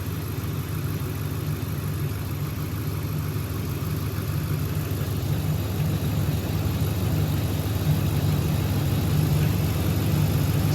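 A slammed 2014 Ram 1500 pickup idles with its belt running, a steady low engine hum and even whir, close and constant throughout with no voices.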